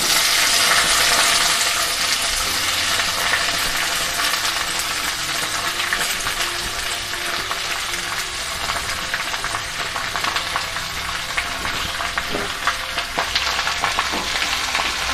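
Vegetables fry in a pan with panch phoron, a dense, even sizzle and crackle running steadily throughout with occasional stirring clicks and no voices.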